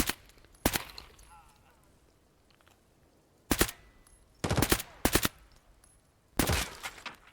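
Several sharp, loud gunshots from a sniper in the game Escape from Tarkov, spaced seconds apart with some fired in quick pairs, each followed by a brief echoing tail.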